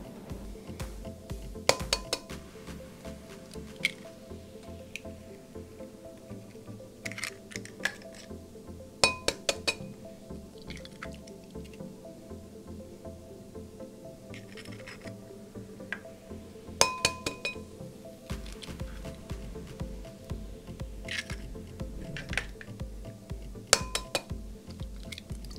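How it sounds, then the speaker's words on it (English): Eggs being cracked into a glass bowl and omelette ingredients stirred in, quiet clinks of glass and utensils with scattered sharp taps and soft wet squishes, spread irregularly across a quiet kitchen. "start building our omelet by breaking our eggs and mixing the ingredients in"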